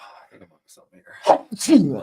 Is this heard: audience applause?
no